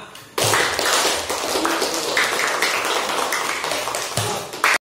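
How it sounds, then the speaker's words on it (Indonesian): A whole class of students claps together in a classroom, a dense continuous patter of many hands that starts suddenly, holds steady for several seconds and stops abruptly. "Oke, tepuk tangan semua."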